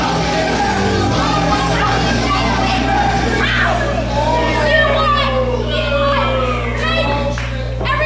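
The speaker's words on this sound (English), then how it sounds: "And the crowd letting them know they want to see it again." A wrestling crowd at an indoor show yells, whoops and cheers continuously, loud and dense throughout, with many high-pitched voices mixed into the noise and a steady low hum underneath.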